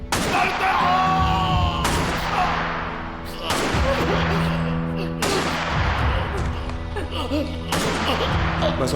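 Gunshots in a Hindi TV drama scene, several loud, sharp reports spaced a couple of seconds apart, each ringing out over a sustained musical score with dramatic voices.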